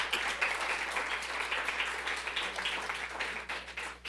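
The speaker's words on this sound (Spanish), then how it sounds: "Denle un aplauso al Señor en esta mañana." A church congregation applauds during a Spanish-language morning service, with dense, steady clapping that runs for about four seconds at moderate loudness over a faint low hum, with no talking.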